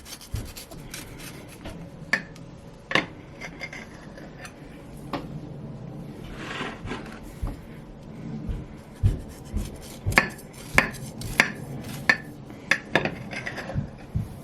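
A knife cuts through a soft vanilla pound cake made with sour cream and cream cheese, giving close, quiet rubbing and scraping strokes with scattered taps and clinks of utensils and plate.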